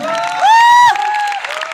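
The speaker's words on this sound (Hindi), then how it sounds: "एक जोरदार तालियां होंगी।" Large audience applauding at a speech event in an indoor stadium in Delhi, a dense continuous wash of clapping and crowd noise with a loud cheering whoop rising over it in the middle.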